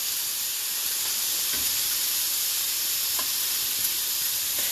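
Teriyaki chicken sizzles and fries in a pan, a loud, continuous close hiss with a few faint clicks and no talking.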